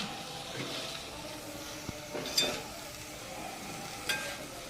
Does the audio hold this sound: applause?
no